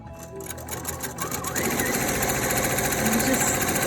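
Sewing machine chain-stitching quilt pieces, a steady rapid mechanical whir that starts lighter and grows louder and denser after a moment, running continuously close up.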